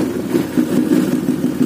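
A Yamaha 135LC motorcycle engine idles close by with a steady, low, pulsing putter, running smoothly on its own just after an electric starter was fitted.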